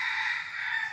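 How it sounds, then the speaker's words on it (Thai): A wild junglefowl rooster crows once in a forest, a clear, sustained call heard alone against quiet surroundings. "ไก่ป่าขันด้วยนะเนี่ย"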